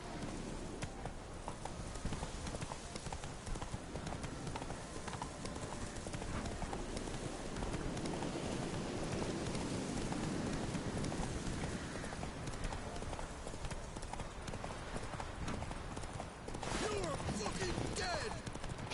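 Horse hooves clip-clop at a steady galloping rhythm in the video game The Witcher 3, a continuous, fairly close pounding with some ambient game sound and a brief whinny-like burst near the end.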